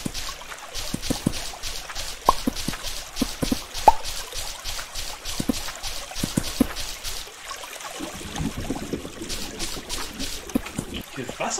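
Flowing water in the block-building game Minetest, a steady trickling and splashing bed with scattered clicks and taps over it, running throughout at moderate level.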